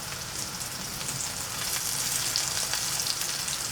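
Comfrey leaves fry in a pan with a steady, close crackling sizzle like light rain, holding an even level throughout with no voices.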